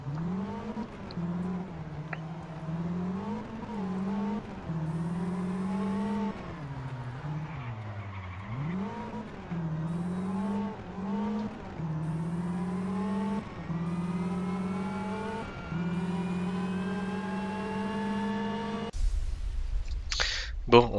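A rally car engine in Sebastien Loeb Rally Evo revs and climbs through repeated gear changes, its pitch rising and dropping steadily in the foreground, with tire noise near the end and a voice speaking over it.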